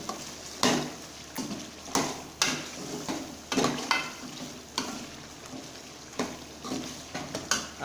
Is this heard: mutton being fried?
yes